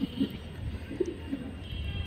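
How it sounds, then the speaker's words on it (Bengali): A young racing pigeon held in the hand coos softly a few times in low, brief murmurs, faint and close, against a quiet background. "তো আমার হাতে একটা অতিথি কবুতর"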